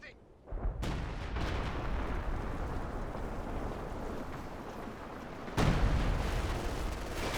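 German Panzerwerfer rocket artillery fires in the WWII strategy game Company of Heroes 2, a sudden loud rushing roar sustained over several seconds with another sharp blast later, amid battle noise and a commentator's voice.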